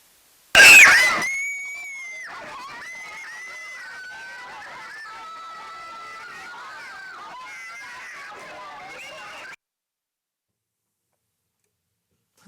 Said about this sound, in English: that was a bunch of kids screaming